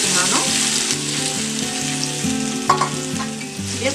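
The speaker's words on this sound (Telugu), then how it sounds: "మిర్చి అంతా ఒక గిన్నెలోకి తీసుకున్నాక ఇందులోనే టమాటా వేస్తున్నాను." Tomatoes frying in a pan with chilies for tomato chutney, a steady close sizzle with a few sharp stirring scrapes, heard under a continuous background music track.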